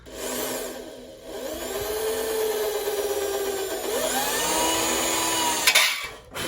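A cordless drill stuck in hammer mode whirs up and down in pitch as it bores a hole during a 125 engine swap into a 50 moped, speeding and slowing, with a brief clunk near the end; no talking.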